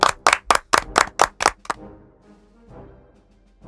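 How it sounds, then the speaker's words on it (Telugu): Seven or eight sharp, evenly spaced handclaps ring out close and loud in a church setting, then stop abruptly, leaving a faint murmur behind. "చప్పట్లు."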